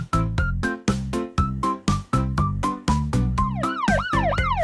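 A firefighter van siren wails in rapid repeating two-tone bursts, then shifts into a fast rising-and-falling yelp, loud and close with no voices.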